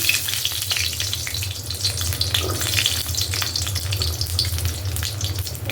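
Chopped garlic sizzles in hot oil in a kadai, a steady close crackling hiss over a low background hum, with no voices.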